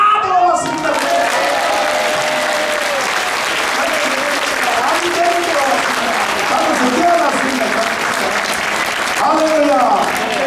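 A crowd at a pastors' national prayer meeting in Busan and Gyeongnam applauds. Sustained, dense clapping lasts about ten seconds, with someone speaking over it.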